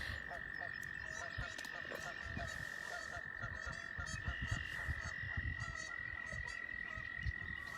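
Leopard frog croaking outdoors at a spring nature center, a steady series of low, rattling croaks over an even background of other calls and insects, with faint talk.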